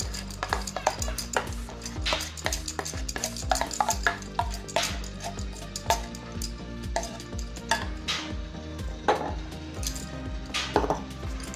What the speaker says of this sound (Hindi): इसे हम अच्छी तरह से फटाफट मिला लेते हैं।